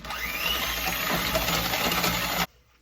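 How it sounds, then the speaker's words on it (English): Electric whisk whirring steadily through wet chocolate chip muffin ingredients with vanilla, a close, continuous motor buzz for a couple of seconds before cutting off abruptly. "Now we're going to give that another little whisk to make sure that's all combined nicely."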